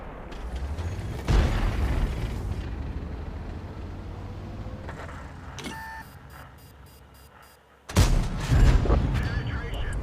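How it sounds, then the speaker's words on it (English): Shell hit from an M48 Patton tank in World of Tanks: a sharp, loud impact boom with metallic clang, followed by rumbling engine and mechanical noise, then a second heavy blast near the end. "so I just took a shot from the M48 Patton"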